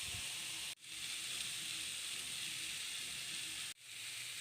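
Ginger-garlic paste hits a hot pan of cauliflower and potato curry, giving a steady, loud sizzling hiss that runs throughout, broken by two brief cuts.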